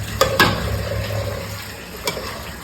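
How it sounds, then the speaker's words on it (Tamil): Chicken is stirred into masala in a hot pan: a steady close sizzle under a few sharp clicks and scrapes of a spoon against the pan, with no voices. "சிக்கன் வந்து நல்லா கலக்க போகிறோம் அந்த மசாலாவோட"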